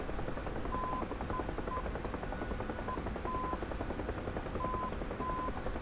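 A UH-1H Huey helicopter in the DCS World flight game keeps up a steady, continuous rotor and turbine drone at moderate volume, with faint short tonal beeps sounding now and then and no talking.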